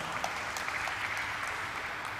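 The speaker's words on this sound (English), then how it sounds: "That definitely deserves a round of applause." Applause from an audience at a steel tube company's stock listing ceremony, a soft, uniform wash of many hands clapping at a distance, steady for a couple of seconds with no talking.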